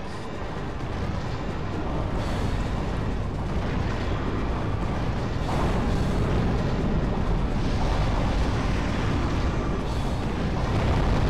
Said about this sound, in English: the circle button fires a Babel missile